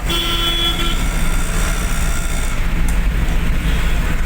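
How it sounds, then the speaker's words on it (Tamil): Dense city traffic on a Chennai road, a steady loud roar of engines with a long car horn honk near the start and more horn toots mixed into the continuous rumble. "டிராஃபிக் மட்டும் பஞ்சமே இல்லை சென்னையில்"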